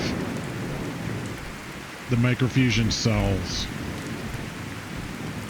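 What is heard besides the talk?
rain in Fallout 4 video game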